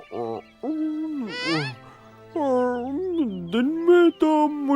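An owl hoots in a string of loud, close, wavering calls with brief gaps between them, and no other sound competes.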